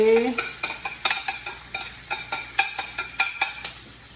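Bacon and caramelized onions sizzle in a pan while a utensil stirs and scrapes in a steady series of distinct clinks, close and fairly loud, with no talking.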